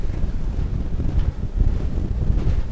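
Yellowfin 6500 CC center-console boat with a Yamaha F200 outboard pounding through waves at speed, a steady loud rush of wind buffeting the microphone and water slapping the hull throughout, with no talk.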